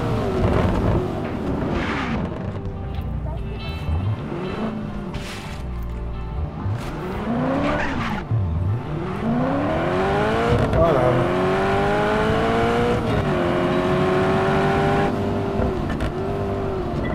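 A loud car races at high speed in Just Cause 3, its engine whining up and down through repeated gear shifts and revving sweeps, close and constant throughout, with a voice talking over it at times.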